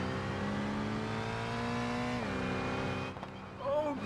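A racing car engine in BeamNG drones at high revs, shifts pitch downward partway through, then rises again briefly, sounding synthetic and steady.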